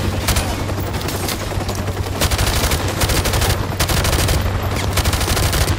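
Rapid automatic hip-fire bursts in Call of Duty: Modern Warfare Remastered, loud close gunshots in dense repeated volleys with brief gaps between bursts.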